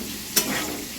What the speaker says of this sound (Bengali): পেঁয়াজ আলুটা একসঙ্গে ভালো করে ভাজা ভাজা করে নেওয়া হচ্ছে।